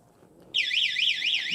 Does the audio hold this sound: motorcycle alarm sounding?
yes